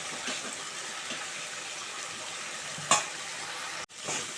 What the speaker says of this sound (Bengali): এই যে মাংসটা কষাতে দিয়ে দিয়েছি, চিকেনটা কষতে ভালো করে